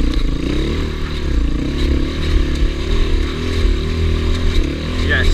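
A low-compression Gio 250cc enduro motorcycle revs hard on a muddy climb, with a loud, close engine note that rises and falls in quick waves and some clattering and scraping beneath it.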